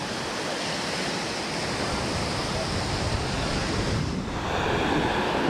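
Surf at a Costa Rica beach near high tide, a steady roar of breaking waves with strong wind noise, loud and continuous with a slight swell toward the end.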